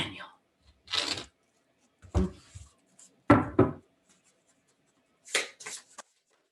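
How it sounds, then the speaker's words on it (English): Oracle cards being shuffled by hand, several short papery riffles and slides in separate bursts, close and fairly quiet with pauses between them. "doing well with my shuffling."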